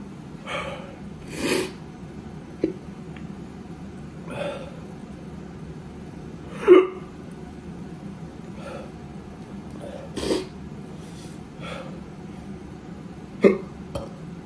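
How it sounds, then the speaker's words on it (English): After eating a very spicy chip, a person hiccups repeatedly; about ten sharp, isolated hiccups come a second or two apart against quiet breathing. "I didn't prepare for the hiccups."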